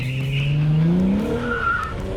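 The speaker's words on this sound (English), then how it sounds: "some solid times in Katrina's Camaro, but now it's my turn to go" A Chevy Camaro on a race track launches and squeals its tires, a long rising screech over a roaring engine that climbs in pitch, loud and close, with no speech.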